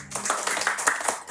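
A short burst of audience applause at a church lecture, scattered clapping that rises and fades over about a second, with no talking.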